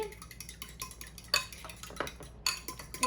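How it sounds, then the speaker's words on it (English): Pumpkin muffin batter stirred in a bowl, a quiet run of spoon clinks and soft scrapes against the bowl, with a few sharper knocks, close and without talk. "so let's mix it all up"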